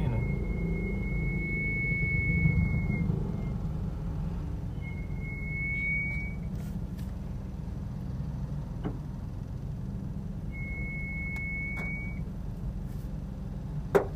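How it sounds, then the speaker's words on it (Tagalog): The brakes of a Toyota Raize squeal as the pedal is pressed: three thin, high-pitched whines, each lasting about a second, over a steady low cabin rumble with no talking. "Maingay pa rin yung preno."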